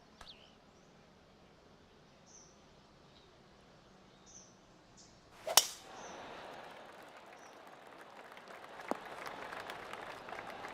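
In the golf video game PGA Tour 2K23, birds chirp faintly, then after a sharp knock a crowd breaks into steady, distant applause that continues to the end.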